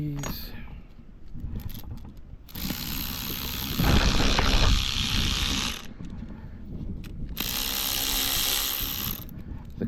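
A ratchet wrench removes bolts while an Alltrack M3 motor is being replaced, with quick clicking bursts of ratcheting separated by brief pauses, close up and loud.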